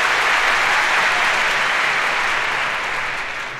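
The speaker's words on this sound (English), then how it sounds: "so hold the applause till the end, please" A theater audience claps steadily in dense, loud applause that fades slightly toward the end, with no voices over it.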